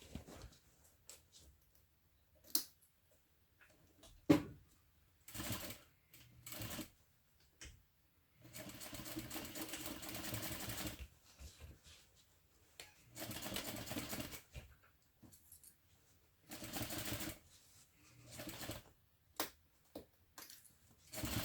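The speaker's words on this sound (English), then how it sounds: "And now we're sewing this at a 1/2 inch seam allowance." A sewing machine running a 1/2 inch seam at a short stitch length, heard in quiet bursts of rapid mechanical whirring and clatter separated by pauses, some runs lasting a few seconds.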